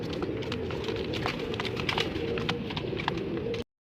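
Pigeons coo softly amid a steady crowd murmur at a bustling pigeon market in Multan, continuous low bird calls with scattered sharper sounds in the background.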